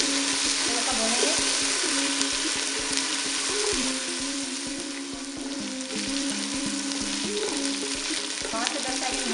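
Steady loud frying in a pot for mutton yakhni pulao, a continuous dense sizzle and crackle with occasional stirring scrapes, close and constant throughout.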